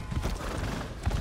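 Hooves of a horse in Elder Scrolls Online, a brief run of quick clip-clop beats, soft and steady with no talk.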